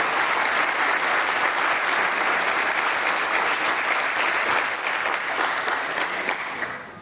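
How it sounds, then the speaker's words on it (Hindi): A medical college audience at an MBBS white coat ceremony claps loudly and steadily for about seven seconds, a dense wash of applause that tapers slightly at the end. "आप लोग अपने लिए कस के ताली बजाएं"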